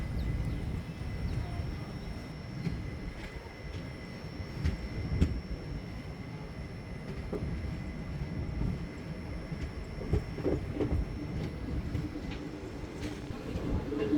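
Low rumbling of the Mumbai CSMT–Chennai Egmore Mail passenger train rolling along near Adoni, with rhythmic clatter and faint tonal hum, steady and moderately distant throughout.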